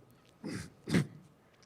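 A man in an online professional talk gives two short, close coughs about half a second apart, quiet and with no talk around them.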